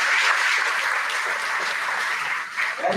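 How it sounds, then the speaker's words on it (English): An audience at an elementary school re-dedication ceremony claps, a steady, moderately loud patter of hands that tapers slightly toward the end, with a faint voice entering at the close. "I'd like to give them a round of applause for everything they do."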